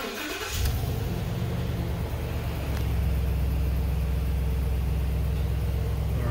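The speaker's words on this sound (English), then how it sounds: "Let's go ahead and turn on the truck real quick." A truck engine cranks for a moment and catches, then rumbles in a steady, loud idle close by for several seconds, with no one speaking.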